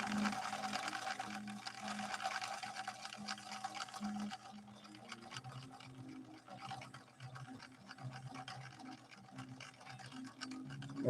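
A 1964 Viking Husqvarna 19E Special sewing machine runs at regular speed, stitching a narrow three-point zigzag with a steady mechanical whir and needle chatter, loud and close, easing slightly partway through.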